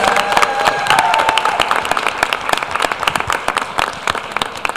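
Applause at a Pleasantville High School board of education meeting honoring the student of the month: dense, steady clapping from a room full of people, loud and close, tapering slightly toward the end, with a brief murmur of voices early on.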